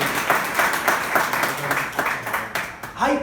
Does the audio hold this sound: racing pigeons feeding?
no